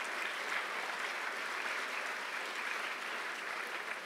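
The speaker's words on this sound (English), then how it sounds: "Please join me in giving a round of applause" A dense, continuous wash of audience applause fills the hall at the opening address of a book festival, holding steady and full for several seconds with no speech over it.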